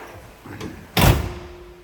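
The fold-down tailgate of a 1970 Chevrolet Caprice Kingswood station wagon swings shut with a light creak and then a single loud, solid slam, followed by quiet.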